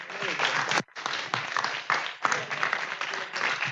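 An audience at a children's parish carnival show in Bitti, Sardinia, bursts into dense applause for a choir, steady massed clapping broken by a brief pause, moderately loud with a voice over it.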